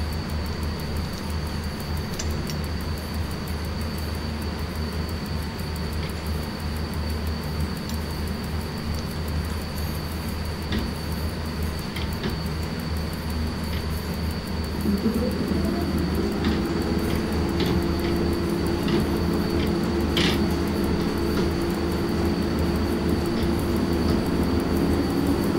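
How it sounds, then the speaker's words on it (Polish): A locomotive in the SimRail train simulator grinds along the rails, a steady loud rumble with a sustained scraping drone that rises into a stronger tonal grind partway through. "Cały czas słyszę po prostu piłowanie, jakieś takie o szyny."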